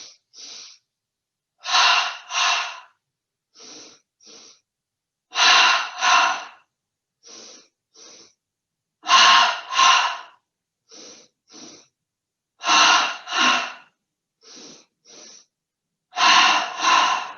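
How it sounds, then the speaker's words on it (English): Double belly breaths during a full-body yoga recovery session, in through the nose and out through the mouth: paired breath sounds repeat in a steady rhythm, soft single breaths alternating with louder close doubled ones, with no talking. "breathing in through the nose, out through the mouth"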